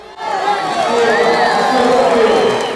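A football crowd at a stadium cheers and applauds as Zico leaves the field, a loud, sustained roar of many voices that swells in and holds steady throughout.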